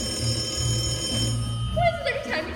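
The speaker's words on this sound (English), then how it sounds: "the phone always rings" A telephone bell rings in a domestic comedy scene, its bright trilling tones sitting high over a steady low hum, with voices talking over it toward the end.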